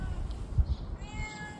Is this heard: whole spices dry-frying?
no